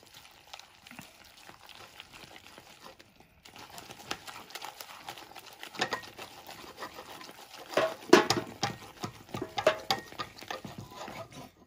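Wet, clattering stirring of okonomiyaki batter with cabbage and green onion in a bowl, irregular scraping and slapping strokes that grow busier and louder partway through, close up.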